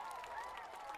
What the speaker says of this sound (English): you'll hear the applause there